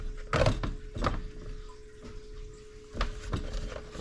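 Soaked Ford 4R70W transmission clutch parts dripping fluid in a workshop, several scattered drips and splashes against a steady low hum.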